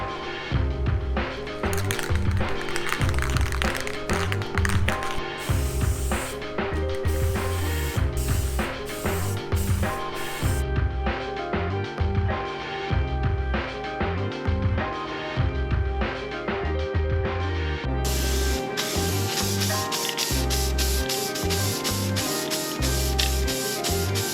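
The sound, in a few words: spray painting a skateboard deck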